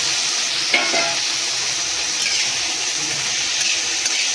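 Paneer chilli being made: fried paneer tossed into sauce in a hot pan, with a steady loud sizzle of frying and a few scraping stirs near the start, close up and with no talking.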